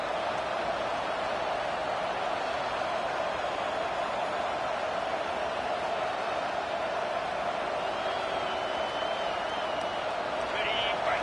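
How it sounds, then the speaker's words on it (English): A loud college football stadium crowd roars steadily, a dense unbroken wall of cheering and noise that holds at full volume throughout, with faint voices underneath. "It is getting loud as this crowd tries to help its defense"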